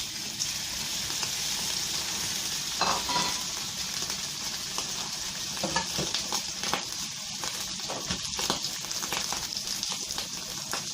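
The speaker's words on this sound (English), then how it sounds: "A bit of oil. The pork fat goes in first." Pork fat fries in hot oil for stir-fried pork, giving a steady sizzling hiss broken by scattered pops, clinks and stirring sounds, with no speech.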